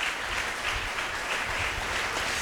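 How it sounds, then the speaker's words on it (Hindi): A church congregation applauding in thanks to the Lord, a dense, steady burst of many hands clapping throughout, fairly loud and unbroken. "ताली बजाकर प्रभु को धन्यवाद दीजिए।"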